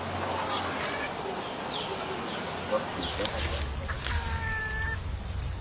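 A red junglefowl rooster crows faintly in the distance, a few drawn-out tonal calls near the end rising out of a steady hiss of forest ambience.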